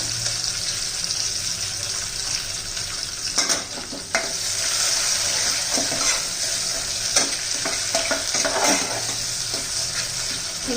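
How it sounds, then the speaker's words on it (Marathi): Onion and coriander leaves sautéing in a pan for chicken soup, a steady close sizzle with scattered spatula scrapes and stirring knocks throughout, no voices. "कोथिंबीर घालून एखादा मिनिट परतून घेतलेला आहे"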